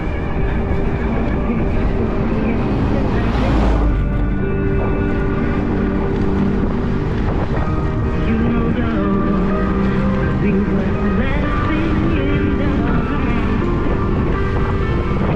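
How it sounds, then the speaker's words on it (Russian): Wind roars hard against the microphone while riding at about 40 km/h on a Crimean road, a steady, loud rushing buffet that barely lets up across the whole stretch. "На скорости от 40 км в час ветер просто тебя продувает."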